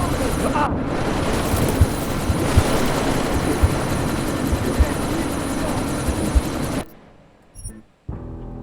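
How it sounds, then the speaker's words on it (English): A helicopter in the Deus Ex: Mankind Divided video game thuds loudly and steadily with rotor chop and engine roar amid a sandstorm, then cuts off abruptly near the end, leaving brief quiet and faint noise. "you need to disable that chopper"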